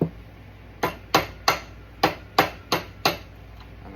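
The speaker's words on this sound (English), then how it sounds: "Hammer this guy back in," Eight sharp metal hammer strikes drive a key back onto the shaft of a Predator 212 motor, spaced roughly evenly and close-up with short ringing decays.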